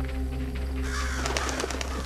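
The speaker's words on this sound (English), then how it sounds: "And there's crows everywhere." Crows in the Hello Neighbor 2 game around the Peterson House: a few short, distant caws and calls over a steady low ambient hum, with no voices.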